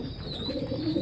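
French meat pigeons cooped in a shipping box give low, soft cooing murmurs, close and continuous over a quiet background.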